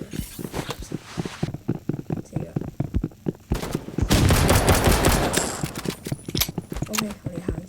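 Rapid bursts of video game gunfire, including sniper rifle shots, crack out over a steady run of rhythmic tapping, with a dense, louder flurry in the middle while people talk over the action.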